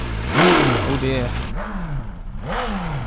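A BMW M4 built to around 1,000 horsepower, suspected of big end failure during a drag race, revs in repeated rising and falling surges, loud and close, with voices talking over it.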